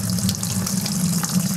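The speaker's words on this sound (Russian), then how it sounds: "Наливать я все это буду вот в эту опять бродильную емкость." Water pours steadily from a kettle into a fermentation vessel, a loud continuous splashing gush heard close and alone.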